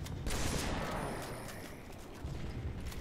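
Shotgun fire in the online shooter Standoff, a dense continuous barrage of loud overlapping blasts and gunfire from a chaotic multiplayer battle, sustained throughout without pause.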